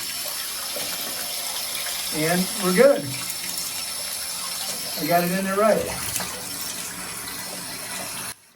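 Water runs from a Moen shower valve with a 1225 cartridge, a steady loud hiss of spray that continues without a break, while someone speaks twice over it before the flow cuts off at the very end.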